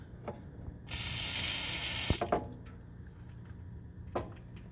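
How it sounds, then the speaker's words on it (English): Penetrating fluid sprayed onto the drain bolt of a 1996–2000 Honda Civic manual transmission: one hissy burst of about a second, followed by a few small clicks and taps nearby. "Give it a little bit of penetrating fluid"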